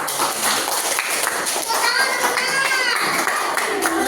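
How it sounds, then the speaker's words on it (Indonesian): Primary school children applaud together in a classroom, a dense, loud patter of many small hands clapping steadily throughout, with children's voices mixed in. "Sangat luar biasa, tepuk tangan."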